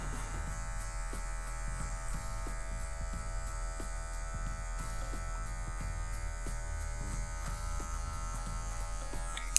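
Electric hair clipper fitted with a number 1 guard cutting hair for a medium fade, a steady close buzz running throughout with small shifts in tone as it moves through the hair.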